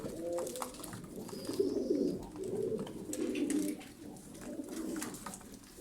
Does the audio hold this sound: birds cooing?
yes